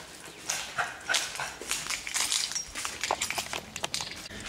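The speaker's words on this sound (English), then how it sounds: "he's a cute little dog" A small, excited dog out on a walk, its claws and steps pattering busily close by on the ground, with soft jingling and scuffing and no voices.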